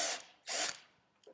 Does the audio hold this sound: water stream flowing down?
no